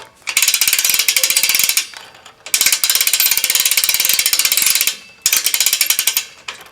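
A trailer winch ratchets loudly as its strap is tightened, giving three long bursts of rapid, even clicks separated by brief pauses. The clicking is close and sounds alone.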